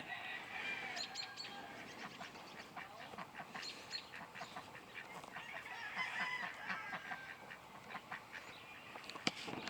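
Ducks quacking and chattering in a steady, busy flurry, moderately distant, mixed with other poultry calls throughout.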